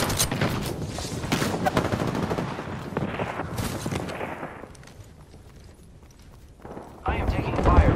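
Rapid bursts of gunfire in the battle-royale shooter Apex Legends, with dense automatic shots for several seconds, a quieter lull, then a loud renewed volley at the end.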